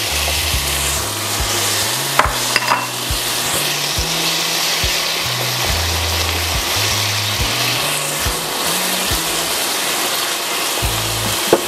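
Shrimp and broccoli sauté in a pan with a splash of white wine, giving a steady loud sizzle with scraping stir strokes throughout and no talking.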